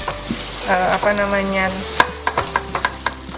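Chopped garlic hits hot oil in a pan with a loud sizzle, then crackles and pops in sharp bursts as it is stirred.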